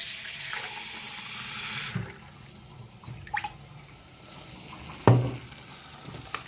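Kitchen tap water pours in a steady rush for about two seconds while chicken is being cooked, then cuts off, followed by faint clattering and one sharp knock nearby.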